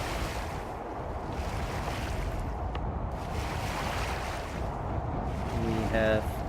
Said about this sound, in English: We have a bit of a problem with the waves once again.